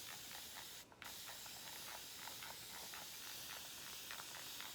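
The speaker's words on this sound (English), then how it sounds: "this is what I do with the spray bottle. You see that? It mists." A spray bottle misting water over freshly sown lavender seeds in garden rows, giving a continuous close, soft hiss that runs almost the whole time with one brief pause near the start.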